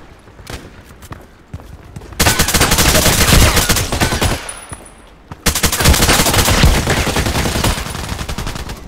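AUG A3 assault rifle firing in the video game Contract Wars: two long runs of fast, tightly packed shots, loud and close, with a short quiet gap between them and scattered softer clicks before.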